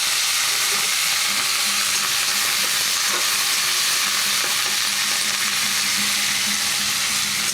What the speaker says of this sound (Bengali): আমি সবজিগুলো দিয়ে দিচ্ছি